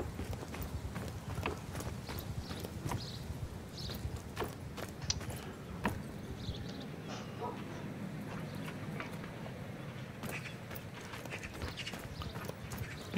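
Horse hooves clip-clop at a walk in Mount & Blade II Bannerlord, a steady run of sharp taps over a low rumble of game ambience, moderately near, with faint mechanical clicks scattered through.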